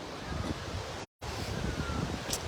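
Steady, broad wash of surf and wind on a beach at Kuakata, Bangladesh, a constant roaring hiss of sea waves broken by a brief cut to silence.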